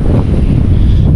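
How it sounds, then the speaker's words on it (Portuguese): Strong wind buffets the microphone aboard a fishing boat out on the water for peacock bass, a loud, steady low roar that fills the whole moment with no voices. "muito vento."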